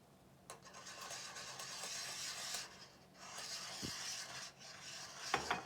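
A metal whisk stirs flour into a meatball cream sauce in a pan, giving steady soft scraping and swishing with occasional clinks, fairly quiet and continuous.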